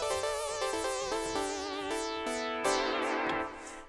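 The Tyrell synth's Silk Zap lead, treated with delay, plays a bright, buzzy melodic phrase of gliding, zapping notes with echoing tails, sustained and fairly quiet without any voice over it.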